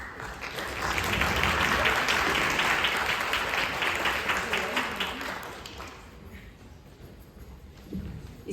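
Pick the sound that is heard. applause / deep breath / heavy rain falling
applause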